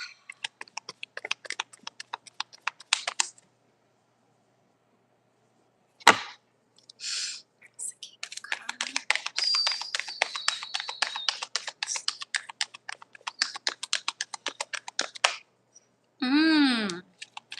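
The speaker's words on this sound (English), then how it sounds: "let me do one more shuffle" Tarot cards riffle-shuffled by hand in quick crisp bursts of dense clicking and fluttering, close up, with short gaps and pauses between shuffles and a brief higher sweep near the end.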